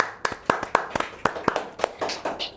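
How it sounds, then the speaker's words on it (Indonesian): A short round of hand clapping from a small group, a dozen or so sharp claps in an irregular rhythm over a few seconds, close by and without speech. "Nice, kita kasih tepuk tangan."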